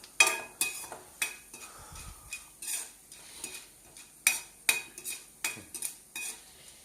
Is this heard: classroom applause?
no